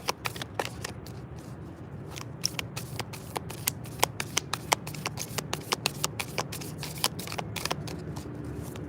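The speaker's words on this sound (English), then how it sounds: "I ain't never had no problems shuffling this long in the house." A deck of cards being shuffled repeatedly outdoors, with rapid crisp riffling bursts and snaps in a steady rhythm, close and fairly loud over a low background hum.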